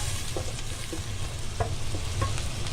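A pot of tomato sauce simmers steadily, a close, continuous sizzling bubble with a low rumble and scattered soft pops.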